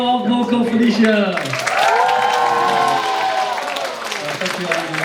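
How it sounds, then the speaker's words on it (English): A live house concert audience claps and cheers, the applause rising and holding for a few seconds while a loud voice speaks over it. "Another round of applause for our vocal Felicia."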